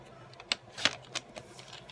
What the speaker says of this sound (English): And then I need to cut this bottom.